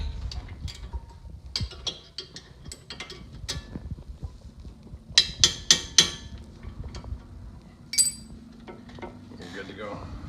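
Metal taps on a Chrysler 300 brake part ring out in a short cluster of sharp clinks near the middle, then one more, amid scattered workshop clatter, with speech at moments.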